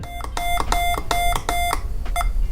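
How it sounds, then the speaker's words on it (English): A Morse code trainer sounds a run of sharp, high electronic beeps in quick rhythmic bursts, loud and close, then a short pause before a final pair of tones. "If you get it correct, you'll hear 1 beep."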